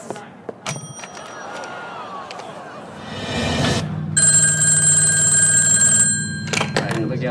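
A telephone rings in a Toyota Auris Hybrid commercial, a loud bright electronic ring sustained for a couple of seconds after quieter rustling and a swelling rumble, with speech around it.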